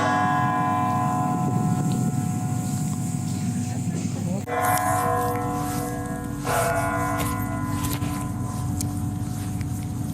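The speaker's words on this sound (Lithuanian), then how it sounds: "O, varpai." Church bells ring out at a church in Reykjavik, a sustained metallic, harmonically rich peal with repeated strikes that brighten after a few seconds, heard fairly loud from close by, with a voice briefly audible.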